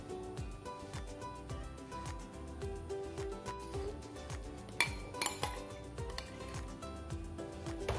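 Chicken tikka pieces are stirred into beaten egg in a bowl, soft repeated scraping and clinks of a utensil against the bowl, fairly quiet, with a few sharper taps.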